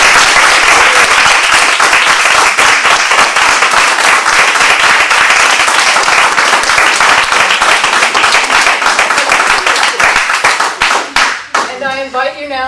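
An audience at a community show-and-tell on gay life in Central Ohio bursts into loud, sustained clapping that fills the room, thinning into scattered claps near the end as a voice begins.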